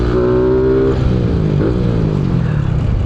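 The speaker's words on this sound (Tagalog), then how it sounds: "Ito lang yung naririnig yung ingay pero yung makina niya matahimik naman siya tsaka hindi siya mabibrate." A Rusi Flash 150X motorcycle engine runs close by, a loud, steady hum whose pitch shifts as the throttle changes partway through.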